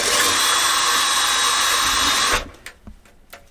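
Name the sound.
power drill drilling through a screw head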